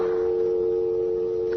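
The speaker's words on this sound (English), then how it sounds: "you'll phone Corey the second I hang up" A telephone dial tone in a 1975 radio drama hums steadily and loudly, a constant electronic note with no pauses, just before a number is dialed.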